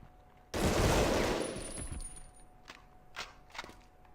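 A short burst of gunfire from a PlayStation 1 game, Medal of Honor Underground: one loud, dense blast that tails off, then a few fainter sharp cracks follow.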